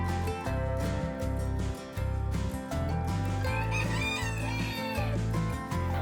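Chickens cluck and crow in a cold, windy farmyard, with repeated throaty clucks, a rhythmic pulsing undertone and a drawn-out crow rising over them, close and clear.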